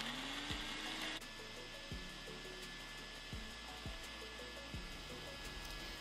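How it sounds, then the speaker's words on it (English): A blender whirring through dried peppers, two habanero chilies and oil for a vegetarian jollof stew base, a steady buzzing grind with repeated low thumps as the contents churn, fairly quiet. "Now what you're gonna do is blend it up."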